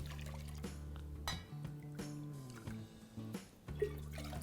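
Water pours and trickles into a pot for cooking pongal in short bursts, with clinking of cookware, close and fairly quiet.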